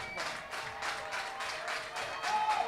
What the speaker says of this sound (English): Claps beginning.